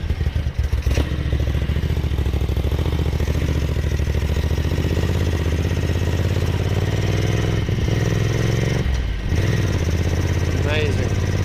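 A restored Ducati 900SS bevel-drive motorcycle engine idles steadily and close by after its first start, a continuous low throb. People talk and exclaim over it.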